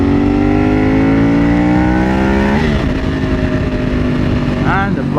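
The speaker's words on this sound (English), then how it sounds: "the throttle response is not that bad" Manual-gearbox motorcycle engine revved hard, a loud close rising whine that climbs steadily, drops sharply, then settles into idle before a short second blip of throttle.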